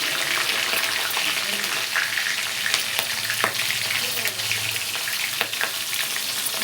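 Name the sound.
green chillies frying with spluttering mustard seeds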